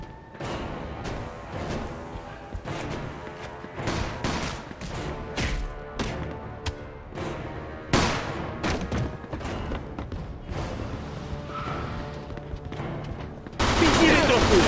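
Rapid, steady gunfire in the video game Mafia II crackles throughout, with bursts of automatic shots and heavy impacts, growing louder near the end.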